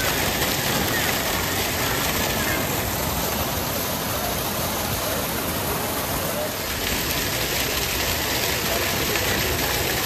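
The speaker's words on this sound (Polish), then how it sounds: "Przez ten wodospad jest tu trochę głośno" An indoor waterfall in a Bass Pro Shop store, a constant loud rushing roar of falling water that fills the space without a break.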